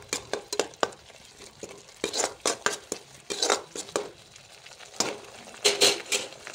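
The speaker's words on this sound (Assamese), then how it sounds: "এতিয়া এইখিনি অকণমান ফ্ৰাই কৰি দিম।" Salt, turmeric and spices frying in a pan over medium flame for a paneer gravy, heard as intermittent stirring scrapes and clinks of a utensil against the pan with faint sizzle between, fairly close.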